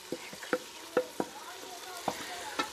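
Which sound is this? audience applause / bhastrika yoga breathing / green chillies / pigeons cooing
green chillies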